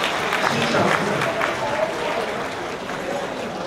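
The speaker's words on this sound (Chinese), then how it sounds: "我们用掌声啊" Audience applause at a Taiwanese commerce association gathering, marking a birthday for Legislative Speaker Wang Jin-pyng. Dense, steady clapping from a large crowd fills the room and tapers slightly, with faint voices mixed in.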